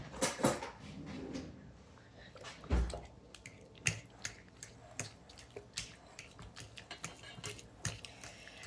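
About a quarter cup of heavy whipping cream is stirred in a bowl for a Danish carnival bun filling, giving quiet, irregular clicks and taps of a utensil against the bowl, fairly close and with no talking.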